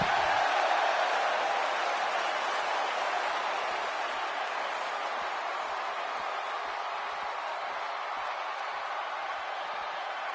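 Arena crowd at a WWE wrestling match, a broad sustained roar of cheering that stays loud and steady throughout, slightly easing toward the end, with no clear voices on top.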